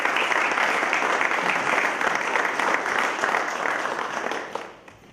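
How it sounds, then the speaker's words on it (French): Crowd applauding at an international football match between Armenia and Luxembourg, dense continuous clapping that holds steady and then fades out over the final second. "On peut les applaudir aussi."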